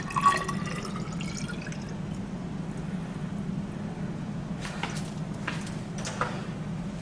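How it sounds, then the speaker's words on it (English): Water trickles and drips from a test tube into a graduated cylinder, a faint steady pour with a low background hum and a few brief splashes near the end. "I'll have to pour it into a graduated cylinder."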